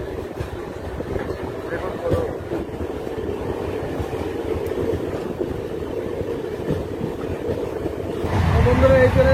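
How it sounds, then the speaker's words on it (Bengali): A MEMU passenger train runs at close to 100 km/h with a steady rumbling roar and wind rush, heard from onboard, growing louder near the end while someone speaks over it. "এটা কিন্তু প্রায় 100 স্পিডে চলে এই মেমো ট্রেন"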